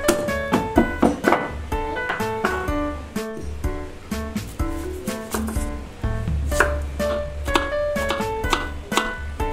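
A knife chops garlic, onion and green chili on a cutting board in quick, steady rhythmic knocks, close and loud, with faint music-like tones underneath.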